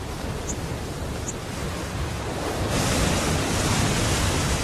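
A heavy torrent of water pours over a Highland waterfall beside a small bird's nest, a loud, steady broadband rush that swells even stronger partway through, with no voices.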